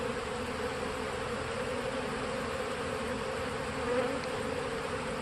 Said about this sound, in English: This hive doesn't seem to be pulling in the pollen like the other one.